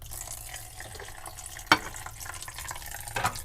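Running tap water splashes steadily while fish are washed in a sink, with a sharp knock and a few clatters standing out against the continuous flow.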